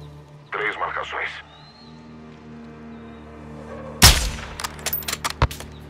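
A sharp, loud burst of gunfire with rapid follow-up shots in the video game Call of Duty: Modern Warfare II, preceded by brief radio-like voice chatter and a low steady hum.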